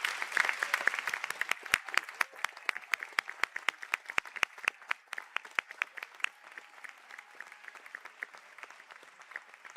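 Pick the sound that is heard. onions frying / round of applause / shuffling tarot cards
round of applause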